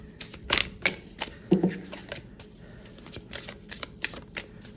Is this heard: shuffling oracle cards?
yes